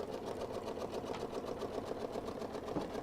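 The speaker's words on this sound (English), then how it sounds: "I'm going to press start, and it's going to sew the block around" An embroidery machine sews placement stitches around a quilt block, a fast, even mechanical whirr of the needle running continuously at close range and fairly quietly, with no talking.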